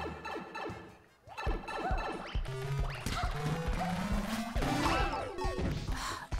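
Blocks breaking in Super Mario 3D Land, sharp crashing hits scattered over busy, bright game music and jingles, with a brief dip before the action resumes and several smashes landing close together.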